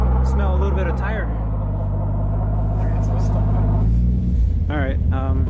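A car stuck in a snowy driveway spins its Firestone all-season tires hard, the engine droning loud and steady throughout with a shift in pitch near the end, and a voice speaks over it.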